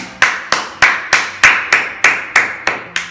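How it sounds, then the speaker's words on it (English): A single person claps hands about ten times in a steady, evenly spaced rhythm, each clap sharp and close, with nothing else heard. "I'm tired of clapping."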